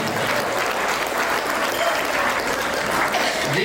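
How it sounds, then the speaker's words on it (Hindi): Steady applause from a large audience at a Hindi singing performance, dense clapping holding at an even volume throughout without any voice over it. "एक बार अपने लिए तालियां बजाइए"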